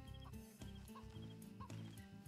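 A chicken in the survival game DayZ clucks in short repeated bursts over a dense, steady layer of game ambience.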